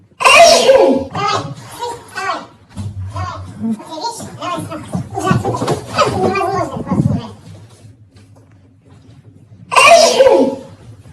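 Repeated loud sneezes from a person in a sneeze prank, bursting at the start and again near the end, with indoor chatter and a voice between them.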